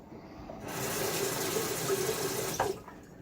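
Running tap water pours steadily for about two seconds while a safety razor, a Gillette Sheraton with a Gillette Nacet blade, is rinsed under it at close range, then the flow cuts off.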